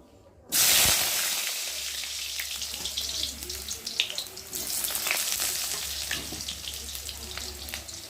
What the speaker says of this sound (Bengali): আমি এখন ফার্স্টে আমি আলুগুলোকে ভেজে নেব